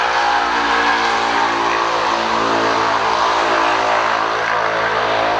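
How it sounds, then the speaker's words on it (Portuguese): A low-powered motorcycle, a turbocharged BMW, roars with a loud, steady engine drone that holds at the same level for the whole stretch, close and with no talk over it. "Qual a necessidade de um barulho desse numa moto tão fraca?"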